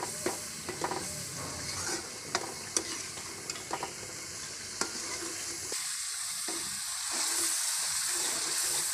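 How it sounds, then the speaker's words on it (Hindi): Spices fry and sizzle in a pan for a potato curry, a steady hiss broken by occasional scraping stirs and taps of a spoon, heard close and fairly quiet. "ये मसाले डालकर हम 4-5 मिनट के लिए इसे भूनेंगे"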